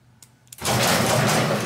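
A remote-controlled garage door opener, rigged for a Harley Davidson motorcycle, clicks a couple of times before the garage door lurches into motion with a loud, steady rumbling roll that continues to the end.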